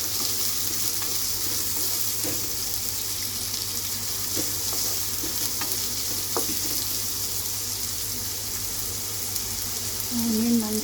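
Onion frying in a pan for an egg curry, a steady loud sizzle with occasional spoon scrapes and clicks of stirring, and a brief louder patch near the end.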